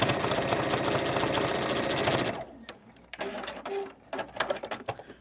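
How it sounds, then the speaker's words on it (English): A sewing machine backstitches over a thick fabric seam while making a small fabric basket. It runs in a steady, rapid mechanical chatter for about two seconds, then stops, followed by scattered clicks and handling noises. "I like to go over the seam, backstitch over it a couple times"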